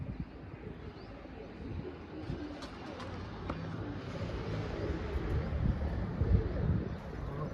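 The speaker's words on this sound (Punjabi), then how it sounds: "ਫਿਰਦਾ ਕਬੂਤਰ" Pigeons coo in low, soft, repeated murmurs against faint outdoor background noise, growing slightly louder toward the end.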